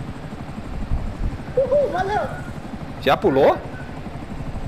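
A helicopter in Grand Theft Auto V drones with a low, steady rotor thrum beneath someone talking excitedly in bursts.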